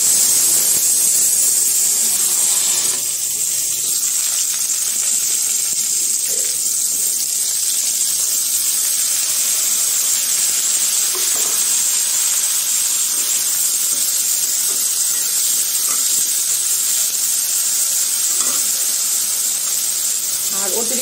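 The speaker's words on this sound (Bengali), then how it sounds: "এখন এই তেলের মধ্যে আমি করলা ভাজি করে নিব।" Sliced bitter gourd (karela) sizzles in a pan of leftover potato-frying oil, a steady broadband hiss of bubbling and spitting that holds throughout at an even level.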